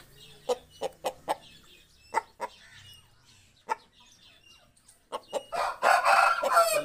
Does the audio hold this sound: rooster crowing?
yes